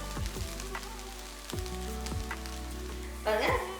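Chicken egg fried rice left to sizzle for a minute in a pan on the stove: a soft, steady frying crackle with a few light metallic clinks scattered through it.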